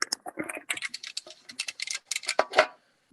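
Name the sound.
typing on a keyboard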